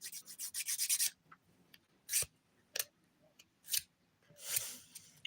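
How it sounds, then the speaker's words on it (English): A nail file rasps against a fingernail in quick bursts of scratchy strokes, first a rapid run, then separated single swipes, close and fairly quiet. "Filing black can be such a pain, you guys, huh?"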